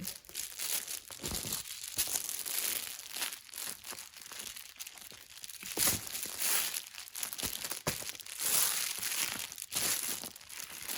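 A DIY car window cover for car camping is folded up by hand, loud close crinkling and crumpling of stiff sheet material in repeated bursts and rustles, with no voices.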